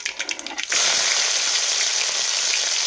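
Green chillies dropped into hot oil with cumin seeds for upma set off a sudden loud burst of sizzling that then holds as a steady, close hiss.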